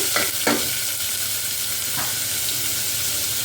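Onions hit hot oil in a pan and fry with a loud, steady sizzling hiss, with a few brisk scraping stirs near the start and one more partway through.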